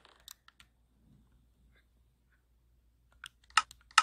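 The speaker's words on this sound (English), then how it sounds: "Do you hear clicking noises?" Game controller buttons clicking during Minecraft play, a few sparse light taps early, then a quick cluster of sharper, louder clicks near the end against near silence.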